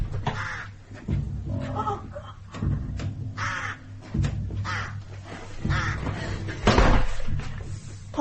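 A flock of crows caws outside, loud and repeated in overlapping bursts, as a sound effect in a BBC horror radio play, with a thud like a door slam among the calls.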